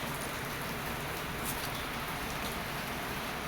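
Steady rain pours down outdoors on the first day of school, a dense, even hiss of drops on surfaces that holds constant and close with no voices.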